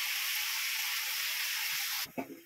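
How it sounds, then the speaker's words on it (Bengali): Bottle gourd greens stir-fried in a pan with turmeric, cumin, nigella seeds and a chilli, giving a steady close sizzle that stops abruptly near the end with a brief clatter. "তো এটা আমি একটু নাড়াচাড়া করে ভাজা ভাজা করে নেবো।"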